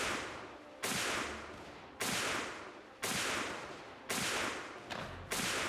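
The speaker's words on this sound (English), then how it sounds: "These boys are already taking shots at me." Repeated musket volleys from Mount & Blade Warband in an American Civil War setting: six sharp, loud cracks at roughly one-second intervals, each trailing off in a long reverberant decay, with no talking.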